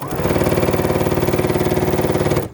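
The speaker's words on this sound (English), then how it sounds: "I'm so in love with this machine because it sews incredibly fast" A sewing machine runs fast, stitching fabric strips for a Trip Around the World quilt: a steady, rapid, evenly pulsing mechanical whir, close and loud for about two seconds before it stops.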